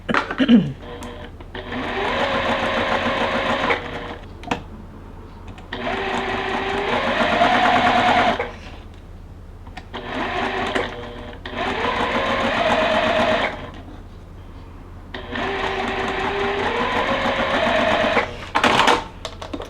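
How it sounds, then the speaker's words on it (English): A sewing machine stitches fabric corner to corner in several bursts of steady whirring, each a few seconds long, with short pauses and a few handling clicks between runs, close and clear. "we're going to sew from corner to corner on these"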